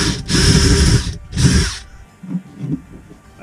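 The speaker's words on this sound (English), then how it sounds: "We're going to drill a hole in this wall." A power drill whines loudly in two bursts while drilling a hole in a wall to locate a leak between floors, followed by quieter rustling and low sounds.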